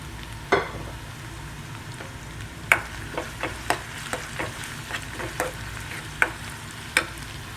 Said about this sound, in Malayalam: ഗോൾഡൻ ബ്രൗൺ കളർ ആവുന്നവരെ നമ്മൾ ഇതിനെ വഴറ്റണം